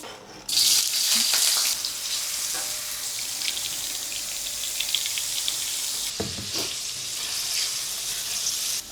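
Cooking oil sizzles and crackles in a new wok while macaroni goreng is being made, a loud steady frying hiss that swells after a sharp start and carries on without talk, with brief clatter partway through.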